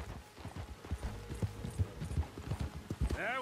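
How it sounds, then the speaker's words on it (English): Horse hooves clip-clop at a quick, uneven gait in the Red Dead Redemption 2 video game, close and fairly soft, with a brief whinny-like sweep at the very end. "Come on, horse."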